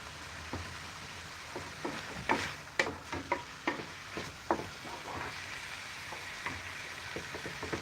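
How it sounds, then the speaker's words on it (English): Ground meat for a pasta sauce sizzling and frying in a pan, with a steady hiss broken by scattered clicks and clatters of stirring, near and moderately loud, no talking. "I will cook the meat no longer pink, then start adding my onions and garlic and stuff."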